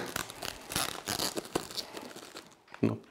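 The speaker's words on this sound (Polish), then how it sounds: "kawałek taśmy tak odkleiłem" Packing tape peels off a parcel holding a board game expansion, close and fairly quiet, with several ripping and crinkling bursts spread across a few seconds and a short louder rip near the end.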